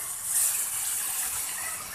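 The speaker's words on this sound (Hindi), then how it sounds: "लगाऊँगी पानी का छींटा" A splash of water hits tomato masala frying in a karahi for gobhi curry, giving a steady sizzling hiss with a brief brighter spurt near the start and no voices over it.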